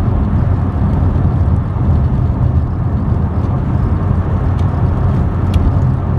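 A Vauxhall mk2 Cavalier 1.8i GLSi driving on quiet roads, its engine and road noise forming a steady, loud, continuous low rumble that runs unbroken from start to finish.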